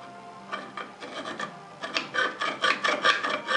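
A 12mm chisel scrapes across wood inside a hand-cut mortise for a mortise and tenon joint, giving a close run of rasping strokes that grow louder and more regular toward the end.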